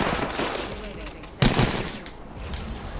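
Gunfire from the video game Apex Legends, a sharp burst near the middle over a steady din of game noise, with dense rattling shots throughout and a voice talking.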